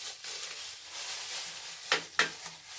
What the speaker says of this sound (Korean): 그러면 지금부터 소기름을 태워 보겠습니다.